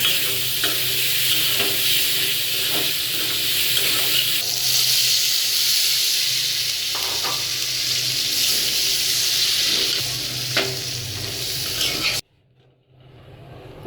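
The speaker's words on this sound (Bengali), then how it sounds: "মশলাটা কষাই নিচ্ছি, এখন ডালগুলো দিয়ে দিলাম।" Lentils hit a frying spiced masala in a pan, producing a loud, steady sizzle with recurring scrapes and stirs for about twelve seconds before the sound cuts off abruptly.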